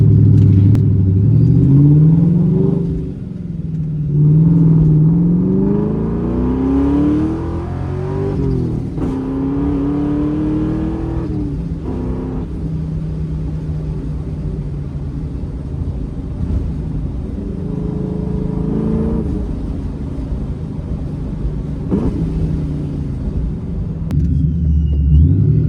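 A Ford Mustang engine with a Vortech supercharger runs after its first start in two years, a loud close rumble with several rising revs and supercharger whine early on, then settling into a steady idle.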